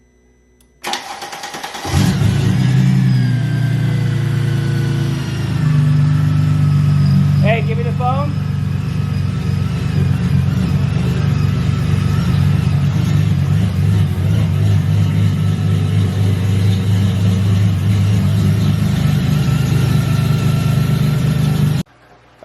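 Supercharged Mercedes SLK32 engine fires up on its first start after an intercooler install, settling into a loud steady idle with occasional revs, while people talk nearby.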